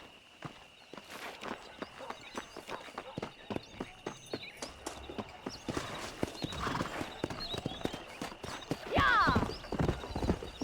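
A horse is ridden in the video game Red Dead Redemption on PC, its hooves clip-clopping in a close, steady rhythm that quickens, with a whinny near the end.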